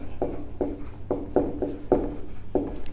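Chalk writing a Hindi word on a board, six short scratchy strokes in a quick, even rhythm, close and fairly clear, with no talk.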